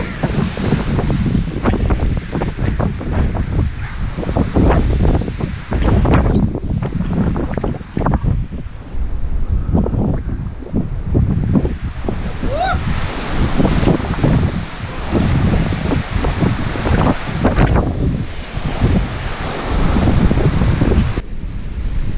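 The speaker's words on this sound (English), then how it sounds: "Not liking being out here with this wind." Strong wind gusts roar continuously across a mountain trail, buffeting the microphone loudly throughout with surging, rumbling bursts and no talk.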